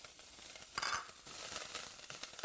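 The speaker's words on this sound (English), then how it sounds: "So about 1 teaspoon of olive oil, and as it is smoking, we add kale." Kale sautéing in about a teaspoon of smoking-hot olive oil, a close hissing sizzle that swells briefly as the leaves are tossed in the pan.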